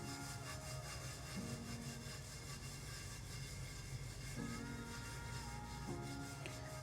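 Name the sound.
rubbing glitter on tumbler in circular motion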